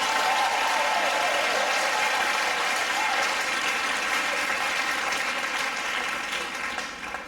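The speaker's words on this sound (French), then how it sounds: "Il faut applaudir pour Saint Patrick." A church congregation applauds in a parish celebration honoring Saint Patrick, with thick, continuous clapping at a loud, steady level that tapers slightly in the final second.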